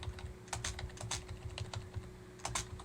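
Keys clatter in irregular bursts as code for a circle area and circumference program is typed on a computer keyboard, close and moderately loud over a low steady hum, with no talking.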